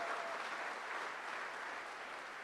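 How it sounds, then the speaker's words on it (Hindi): An audience at a business meeting claps in a steady, even wash of applause from many hands that stays at a constant level throughout. "मैं सबसे पहले तालियां बजवाना चाहता हूं ज्योत्सना मैडम जी के लिए"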